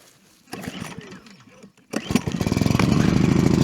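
A portable generator engine on a cold start: scattered handling noises and a brief voice give way to a sharp start partway through, then a loud, steady, rapidly pulsing engine run close by.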